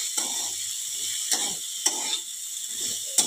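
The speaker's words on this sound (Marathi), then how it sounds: "कोथिंबीर घालून परत एकदा चांगलं परतून घेऊया।" Ridge gourd stir-fried in oil with chopped coriander for a rustic-style dodka bhaji, a bright steady sizzle broken by repeated spatula scrapes and clicks at a regular pace.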